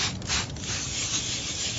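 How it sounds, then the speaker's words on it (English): A car headlight is wet-sanded by hand with 400 grit sandpaper in circular motions, a close, continuous gritty rubbing with slight rhythmic swells, no voices. "you want to sand the entire headlight, not too hard, nice and smooth, in circular motions"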